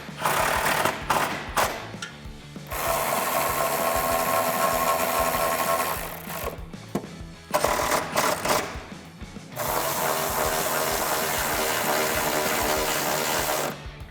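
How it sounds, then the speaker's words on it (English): Power tool ratcheting as exhaust hanger bolts are tightened on a 2018-2019 Mustang GT with a Pypes cat-back system, in loud, close bursts of whirring, separated by brief pauses. "the last thing we'll do is tighten down our hanger bolts"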